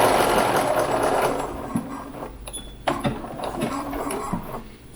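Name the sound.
sewing machine stitching apron dress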